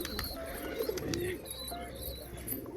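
Pigeons coo softly at close range near a nest with chicks, a few low rounded calls rising over a faint background of rustling and quiet chirps.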